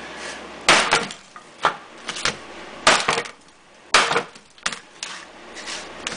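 Someone smashing open a Nintendo DS handheld game console that won't power on, without tools: several loud, sharp cracking impacts come at irregular intervals, with brief rattling and clatter in between and no talking.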